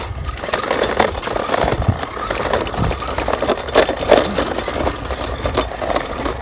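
A scooter engine runs on the road with a buzzing, sputtering drone, rising and falling with the throttle, with wind rushing over the microphone.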